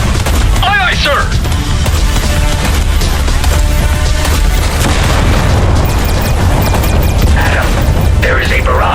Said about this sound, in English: Fire all reserve torpedoes at once.